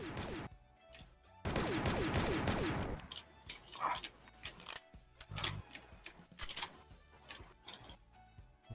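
Gunfire in the BNL fangame video game comes as a dense rapid burst of shots, then scattered sharp cracks and impacts over quieter game sound.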